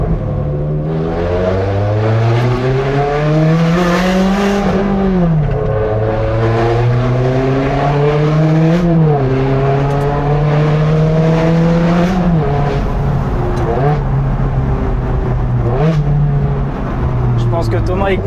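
Ferrari 360 Challenge Stradale engine screaming through repeated revs and sharp downshifts, pitch climbing and dropping in several loud sweeps with crackles, heard from inside the car with people talking over it.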